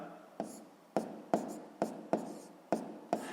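Chalk or pen tapping and scratching as a math expression is written out, seven sharp strokes at a fairly even pace, close and quiet with no voices.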